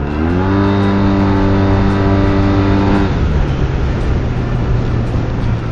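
A Yamaha TMAX 530 DX scooter with a Termignoni exhaust runs up close and loud, first as a steady tonal drone that rises slightly, then turning abruptly into a rougher, throatier roar that holds to the end.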